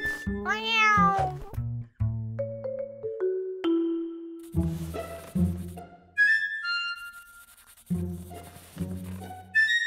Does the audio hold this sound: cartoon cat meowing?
yes